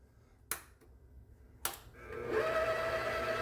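An electric mixer whirring as butter is made, switching on after two sharp clicks and settling into a steady, moderately loud motor hum with a whining tone over the last second or so.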